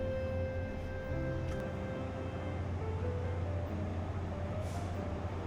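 Gyooe Line train pulling into Daegok Station, a steady low rumble with tonal motor whine and faint brake squeal, continuous and moderately loud from inside the carriage.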